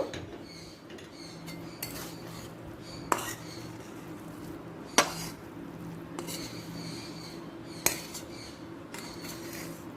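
Vegetarian cabbage curry being served from the pan into another dish: soft continuous scraping of a spoon against metal, with three sharp clinks spaced a few seconds apart, close and quiet, with no talk.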